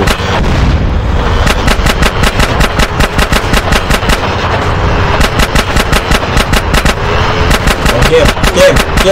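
Rapid automatic gunfire in GTA San Andreas, a dense, loud stream of shots rattling almost continuously over a rumbling background, with excited voices talking underneath.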